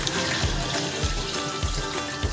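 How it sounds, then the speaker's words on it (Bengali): Hot water poured into a pot of simmering mutton curry, a steady broadband splashing rush with faint bubbling, close and continuous throughout. "দিয়ে দিলাম গরম জল"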